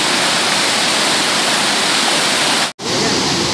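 Loud, constant roar of the Narmada River plunging over Dhuandhar Falls at Bhedaghat, a dense broadband rush with a brief dropout near the end before the roar resumes.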